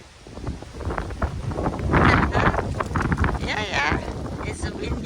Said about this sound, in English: Yeah, it's a windy day.